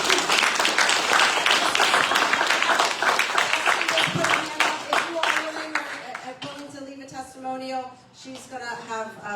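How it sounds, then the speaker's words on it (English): Applause fills the first half, then fades as a person begins speaking over the last few claps. "Let's give her another round of applause."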